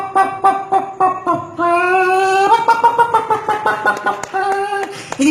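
A human voice imitates a hen's cackling call while laying an egg, given as a loud, close, rhythmic series of sharp repeated clucks with a longer drawn-out squawk near the middle.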